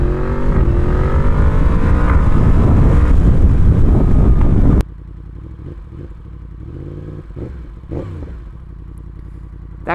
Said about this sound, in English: That Crossplane sound never gets old.